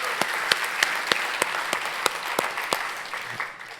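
An audience claps in a steady, moderately loud burst of applause, with several sharper individual claps standing out above the wash, tapering slightly near the end.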